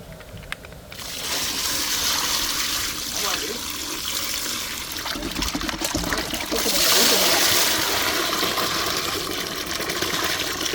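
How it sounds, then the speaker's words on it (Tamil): Milk shark fish being washed in water, with continuous running and splashing water filling the clip and a brief pause near the start. "இப்போ வந்து கழுவ போகிறோம்"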